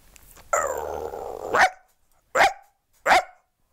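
A mimicry artist's voice imitates a neighbourhood dog, starting with a drawn-out growling whine and then three sharp, loud barks spaced evenly about a second apart, close and alone.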